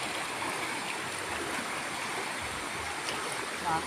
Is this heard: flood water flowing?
yes